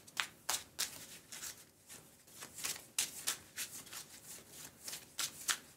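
A deck of Netrunner cards shuffled by hand at a live tabletop game: close, crisp riffles repeat in a steady rhythm of short bursts with brief gaps, and no voices.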